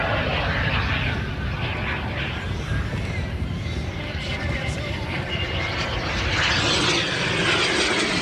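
Aircraft engine droning loudly and continuously at the Elvington airshow, a dense roar that swells slightly, with a commentator's voice talking over it.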